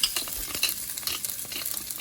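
Fried rice is tossed and stirred in a hot pan, giving a close, continuous run of scraping swishes over a low sizzle, with no talking.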